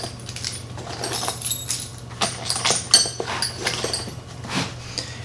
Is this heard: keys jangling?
yes